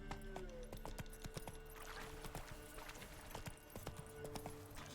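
Roach the horse in The Witcher: Wild Hunt clip-clops along in a steady hoofbeat rhythm over game ambience and a low music drone, fairly faint, with a few brief sounds that could be voices.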